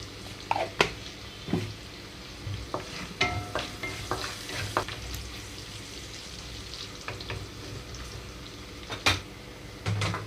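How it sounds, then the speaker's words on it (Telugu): Onions frying on a medium flame with a sprinkle of salt, a soft low sizzle broken by intermittent stirring clinks and scrapes, close and fairly quiet. "మీడియం ఫ్లేమ్లో ఉంచి వేయించుకుంటున్నాను"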